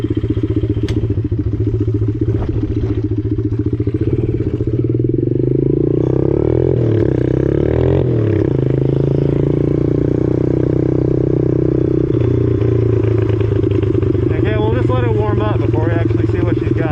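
Modded pit bike engine running on its first ride, a loud, close, continuous buzzing roar that rises and falls in pitch as the throttle changes.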